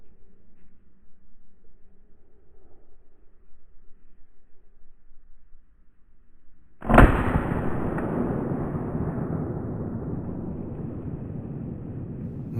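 A single loud gunshot rings out during a driven hunt after several seconds of quiet woodland, its sharp crack followed by a long rolling echo that fades slowly.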